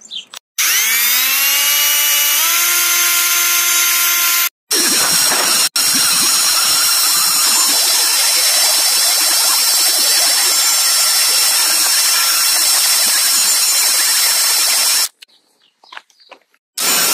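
A loud power tool spins up with rising whine and then grinds steadily against a car headlight lens being sanded, cutting out briefly twice and stopping near the end, close and dominant throughout.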